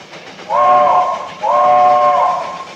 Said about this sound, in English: would you like to blow the whistle?